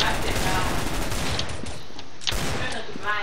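Video game gunfire cracks in a rapid burst of loud shots, with a brief pause before more fire, and a voice talks over it.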